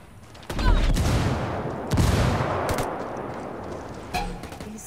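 Bursts of gunfire in the multiplayer shooter game Ghost War: loud, close volleys of rapid shots starting abruptly and recurring across the stretch, with a faint voice underneath.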